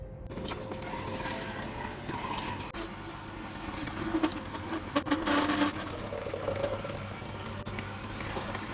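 An electric juicer juices apples with a steady mechanical whir and rattle, growing a little louder with grinding bursts midway, with no voices.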